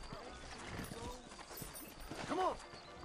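Horse hooves clip-clop at a steady walking rhythm in the Red Dead Redemption video game, moderately close, mixed with game ambience and a brief voice-like call near the end.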